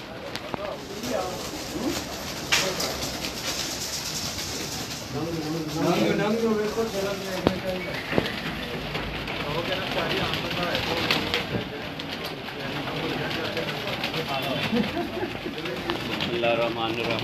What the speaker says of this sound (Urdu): یہ جی چاند بٹ کے کبوتروں کا شوق کرتے ہوئے استاد